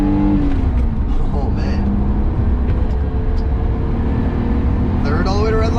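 The engine of a 1982 BMW 633CSi E24 runs loud and close as it accelerates through the gears, its pitch climbing near the end. A person speaks briefly over it.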